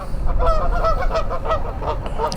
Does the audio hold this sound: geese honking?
yes